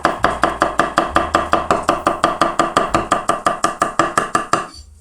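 A sharp kitchen knife slices eggplant on a cutting board for a Korean-style eggplant appetizer, about two dozen quick, steady chops in an even rhythm, close and crisp, with no talking.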